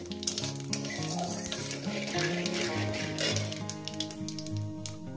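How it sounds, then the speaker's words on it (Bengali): Whole cumin and other spices fry in hot oil for egg curry, a steady crackling sizzle with scattered pops and a soft utensil stir, close and continuous, while light music plays underneath. "কয়েক সেকেন্ড একটু ভেজে নেবো, যেহেতু ফ্লেভারটা যাতে তেলের মধ্যে ছড়িয়ে পড়ে"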